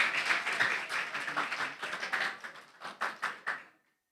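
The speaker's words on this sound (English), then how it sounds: "Let's give her a round of applause." An audience at a schools' public speaking competition applauds, a dense burst of clapping that holds steady, then breaks into separate surges and fades to silence.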